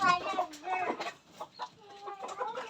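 A large desi rooster of about 3 kg, raised indoors on a Bangladeshi village chicken farm, clucks in a run of close, loud, throaty calls with short pauses between them. No speech is heard.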